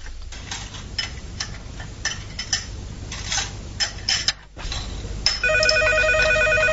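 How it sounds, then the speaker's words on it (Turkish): A telephone rings in a home while breakfast dishes are being washed, with clattering dishes and cutlery heard first and then a steady electronic ring pattern starting near the end, close and fairly loud. "Telefon çalıyor."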